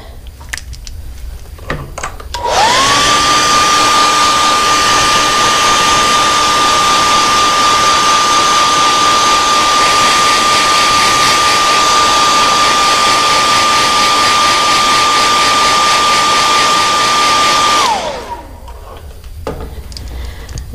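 A heat gun heat-sets airbrushed paint on a fishing lure, switching on loud and close with a steady roaring blow and a whining tone, running about fifteen seconds before winding down, with no talk.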